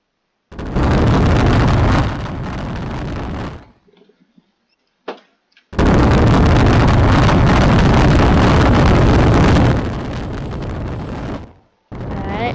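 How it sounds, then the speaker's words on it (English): Boat thrusters in the Brick Rigs video game roar loudly in two long bursts, separated by a near-silent gap holding a few faint clicks, with the roar dropping slightly before each burst cuts off and a third burst starting at the end. "The thrusters are so loud."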